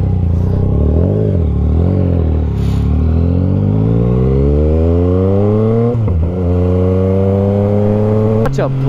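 A Yamaha XSR900 motorcycle revs and accelerates on a test ride, close and loud. The pitch rises smoothly through the gears with brief shift dips, and the rider's wind-buffeted voice is heard.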